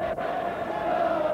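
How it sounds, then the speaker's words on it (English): Crowd of around 20,000 Scottish football fans at Ibrox stadium on a bitterly cold evening, a steady, loud wash of distant crowd noise with a sustained tonal roar, continuous throughout. "with plenty of noise coming from the Scottish fans early on"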